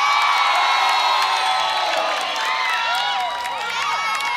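A studio audience at a televised singing competition cheers loudly, with high-pitched whoops and shouts over continuous crowd noise that stays strong throughout.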